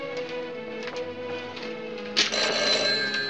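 An old-style telephone bell rings steadily and fairly loud indoors, then a sharper clatter joins as the ringing continues, with no talking.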